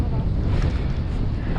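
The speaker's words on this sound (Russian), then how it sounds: "Блин, ветер нас заносит" Steady, blustery wind roars against the microphone with a low rumble, constant and close, gusting across open water on a fishing trip and pushing the boat toward a stream.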